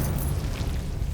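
A Confringo blasting spell goes off in Hogwarts Legacy, a short, dull explosive boom with a low rumble, moderately loud and heard on its own.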